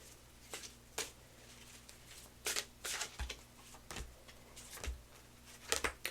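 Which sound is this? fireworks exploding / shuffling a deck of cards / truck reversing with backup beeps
shuffling a deck of cards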